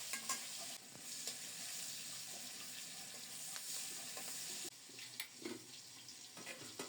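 Bottle gourd is stirred as it fries in hot oil, a steady soft sizzle with occasional scraping strokes of a spatula against the pan, close but fairly quiet.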